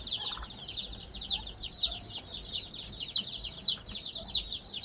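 Young meat-bird chicks cheep in a rapid, continuous high chatter close by, with soft clucking mixed in, at a farm setup where curious turkeys peer through chicken wire.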